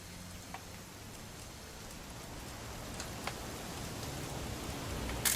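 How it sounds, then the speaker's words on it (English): Steady rain in the video game What Remains of Edith Finch, a continuous soft hiss of drops on surfaces with a few sharper patters, gradually swelling slightly louder toward the end, no voices. "It's gonna rain the whole weekend,"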